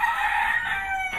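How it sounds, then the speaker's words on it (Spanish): Chickens and a rooster at a roadside stop in the Dominican Republic, with one loud, close crow dominating a short stretch and faint clucking underneath. "there are so many chicken here."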